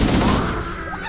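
A heavy weapon fires in Halo: Combat Evolved Anniversary on Xbox One, a single short, loud blast that quickly fades.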